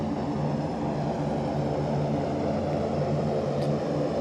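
An Airbus A400M turboprop in Flight Simulator X drones with a steady, loud engine and propeller roar as one engine is shut down, the sound holding even and continuous throughout.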